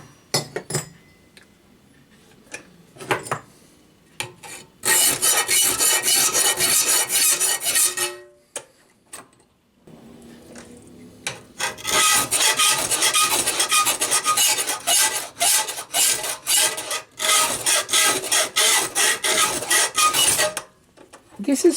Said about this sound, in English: I enjoy filing once you get into it.